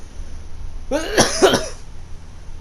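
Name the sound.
cough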